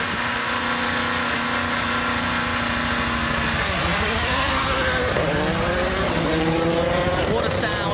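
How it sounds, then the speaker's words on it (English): Rally 1 car leaving the start line on the Festival of Speed forest rally stage, its engine snarling loud and close, revs rising and dropping through gear changes with tire noise, under commentary. "what a sound as the Rally 1 car leaves the line here at the Forest Rally Stage"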